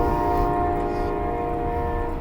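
An intermodal freight train rolls past with a loud, sustained rumble and a steady tonal drone, like a horn or wheel squeal, holding near and constant throughout with no talk.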